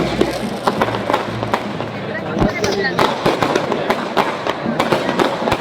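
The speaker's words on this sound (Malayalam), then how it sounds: "വെടിക്കെട്ട് തുടങ്ങി" Fireworks and firecrackers burst in rapid, irregular succession at a festival, loud sharp cracks layered over a dense roar with constant background voices and crowd noise.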